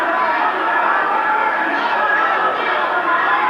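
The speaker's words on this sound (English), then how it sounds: "Listen to this crowd, a capacity crowd here at Lake Charles Civic Center" A capacity crowd at the Lake Charles Civic Center roars for kickboxers mid-fight, a dense, loud, unbroken wall of cheering and chatter that fills the arena from start to finish.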